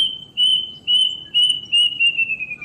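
A plaintive cuckoo gives a series of drawn-out whistled calls, several in a row with short gaps, fairly clear over a low background hum.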